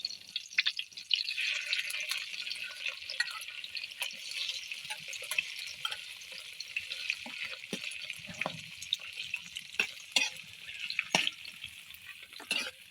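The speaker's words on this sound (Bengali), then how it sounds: "এখন হচ্ছে চিংড়ি মাছটা দিয়ে দেবে" Shrimp frying in a pan with turmeric, chili powder and salt, giving a steady close sizzle with scattered crackles and pops throughout, and no voices.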